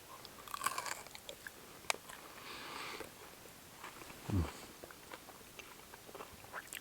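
Someone chews a bite of rare steak cooked on coals and dipped in strong mustard, soft wet mastication and a few crunches with a sniff, close and quiet at a foggy night-time wild camp.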